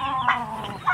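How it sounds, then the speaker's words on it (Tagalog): Chickens clucking close by on a Filipino farm where turkeys are also kept, a dense burst of overlapping clucks and squawks, loud and continuous with no talking. "May mga manok din at saka pabo"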